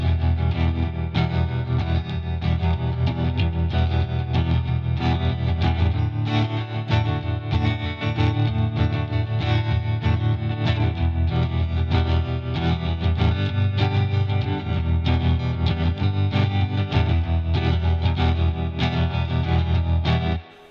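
Distorted electric guitar strums the chords of a song in a country punk style, a dense, continuous, driving wash of chords played loud and without pause for about twenty seconds.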